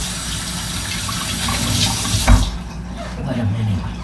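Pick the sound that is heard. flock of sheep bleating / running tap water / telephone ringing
running tap water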